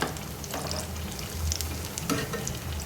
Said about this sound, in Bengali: ভালোভাবে ভাজা হয়ে গেছে, লাল হচ্ছে, হয়ে এসছে